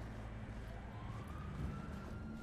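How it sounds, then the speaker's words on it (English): A faint wailing police siren in the video game GTA San Andreas rises and falls in the distance beneath a low background hum. "Why are there sirens going on?"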